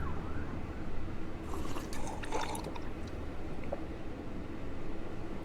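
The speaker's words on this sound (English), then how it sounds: "I think we just had a police car drive by." A police car siren passes faintly in the distance during a gaming session, its wail rising briefly over a steady watery rushing background before fading.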